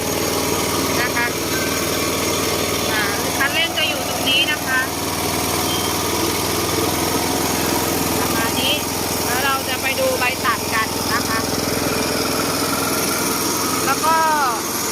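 A small engine of an ATV-mounted Y-blade mower runs steadily with a loud, constant drone, while a voice speaks over it intermittently.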